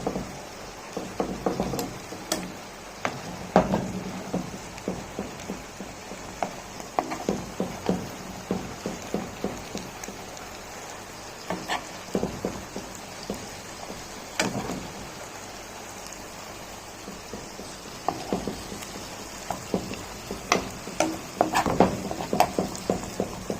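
Herb fish simmering in sauce in a pan for a Jamaican recipe, a soft continuous bubbling and spitting patter with scattered sharper pops and occasional spoon clinks from basting, faint and close, no talking.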